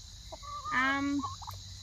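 A single chicken call rings out close by, a drawn-out warbling cluck over a steady background hum.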